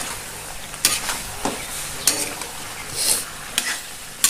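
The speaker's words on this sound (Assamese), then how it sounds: "জুইটো হাই ফ্লেম কৰি লৈছোঁ আৰু এইখিনি এনেদৰে ভাজি লৈছোঁ" Duck meat fried with spices in a pan over a high flame sizzles steadily up close, broken by sharp scraping knocks from a utensil stirring the pan about once a second.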